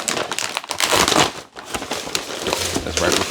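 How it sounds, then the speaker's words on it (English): Tissue paper crinkles and rustles loudly while shoes are unboxed, in uneven bursts of crackling handling with a brief pause midway. "and then you got more tissue paper"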